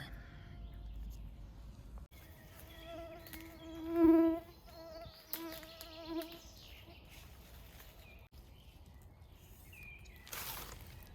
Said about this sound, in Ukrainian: Якщо мене не доїдять комари